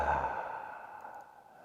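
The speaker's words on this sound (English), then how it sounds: "Exhale out the mouth" A single long exhale out through the mouth during yoga breathing, a soft breathy sigh that starts fuller and gradually fades, heard close and alone.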